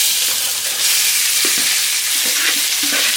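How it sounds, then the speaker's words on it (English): Shrimp frying for scampi in a hot pan make a loud, steady, close sizzle and hiss, with a few soft bumps as the pieces shift in the pan. "we're gonna add in our shrimp"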